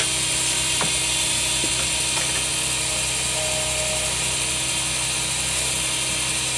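A skew chisel shaving an ebony pen blank spinning on a wood lathe gives a steady mechanical whir and hum, with a few brief scraping cuts and a thin high tone. It is loud and close, with no talk.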